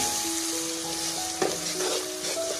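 Whole spices, including cinnamon and dried coriander, fry and sizzle in a pan for white chickpea curry. A close, crackling sizzle is stirred, with a brief scrape near the middle.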